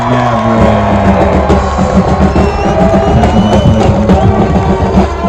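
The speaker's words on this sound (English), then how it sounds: "Frederick's rowdy crowd trying to boost up the mood again." A rowdy crowd at a varsity high school football game between Mead and Frederick cheers and shouts in a loud, sustained roar, with voices mixed into the din throughout.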